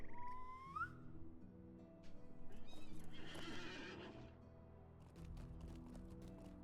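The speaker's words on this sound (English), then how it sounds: "Oh, I have a horse." A horse in the LOTRO video game gives a clear, close whinny, then its hooves clip-clop in a steady rhythm over quiet game music.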